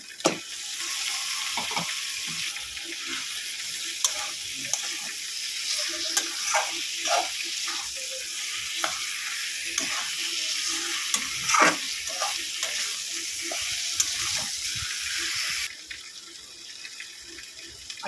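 Beef pieces sizzling and frying in a pan for a beef and bottle gourd curry, a steady close hiss with scattered stirring clinks and scrapes, no talking.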